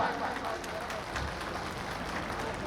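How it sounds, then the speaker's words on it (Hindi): Applause from a crowd at a welcome ceremony for the national Scheduled Castes commission chairman and members, a moderate, steady wash of clapping throughout with a murmur of voices. "इंडियन रेलवे SC/ST एसोसिएशन के लिए जोरदार तालियां एक बार।"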